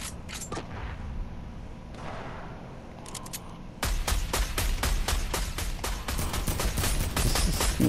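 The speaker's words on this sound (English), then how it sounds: "This sniper is ridiculous." Sniper rifle gunfire in the Fortnite video game, a fast run of sharp repeated shots in the second half, preceded by a few quieter isolated cracks and distant game noise, with no talking.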